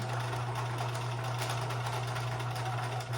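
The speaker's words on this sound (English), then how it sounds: "you want to make sure that you're sewing close to the folded edge, but not over the line." Sewing machine stitching a lapped seam close to a folded edge, a steady rapid mechanical whirring hum that runs without pause for a few seconds, close and fairly loud with no talking.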